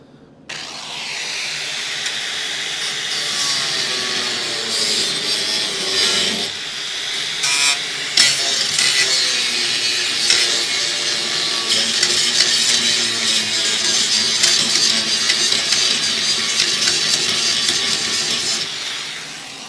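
A power grinder works on the rusty floor of a Dodge Charger crew cab, a loud, continuous abrasive whine that starts abruptly, dips briefly, then runs steady before cutting off near the end.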